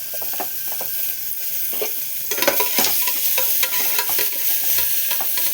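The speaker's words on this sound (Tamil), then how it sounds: "நல்லா வதக்கிடுறோம். வதங்கணும்." Onions sizzle and fry in a pan while a utensil stirs and scrapes, with a few sharper clinks partway through.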